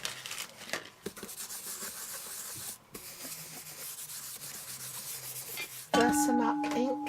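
An embossing buddy pouch is rubbed steadily over Whisper White cardstock, giving a continuous soft scuffing that runs close and moderately loud with no voices, then shifts to brighter tonal scraping near the end.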